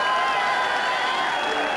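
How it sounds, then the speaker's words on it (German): A dense, roaring wall of applause and cheering from a country music festival audience praising the bands, loud and unbroken from start to finish. "Ich glaube, die haben einen riesen Applaus verdient."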